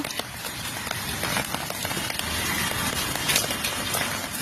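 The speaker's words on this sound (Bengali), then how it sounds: "আমাদের এখানে বৃষ্টি হচ্ছে।" Rain falling under a dark, overcast sky, making a dense, even hiss and patter on surfaces that continues steadily without a break.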